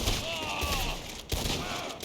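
Enemy gunfire in a video game rattles as a quick burst of shots, a couple of sharper cracks standing out over a steady bed of game noise, with a faint tonal whine running underneath.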